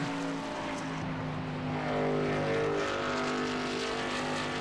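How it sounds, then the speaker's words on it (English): Truck series race vehicles roar around the Michigan oval, a steady loud engine drone with a rising pass partway through and no voices over it. "Only 2 cars still out on the track that have not pitted."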